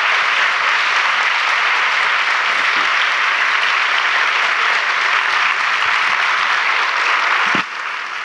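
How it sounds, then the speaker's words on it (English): Sustained applause from a large audience at a talk by author Chimamanda Adichie, dense and steady for several seconds, tapering slightly near the end. "Je vous laisse continuer d'applaudir."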